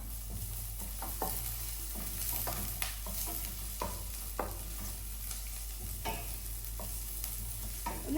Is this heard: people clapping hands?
no